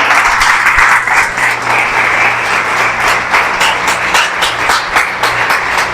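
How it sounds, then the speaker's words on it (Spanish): Church congregation applauding during a sermon, dense sustained clapping from many hands filling the space, loud and even throughout with no talk over it. "Un aplauso al Señor."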